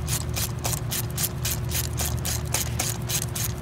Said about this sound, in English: So you just snug it, and then you gotta torque it.